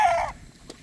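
A rooster's crow trails off loudly and drops away within a fraction of a second, leaving a quiet pause and a faint short cluck from the chickens.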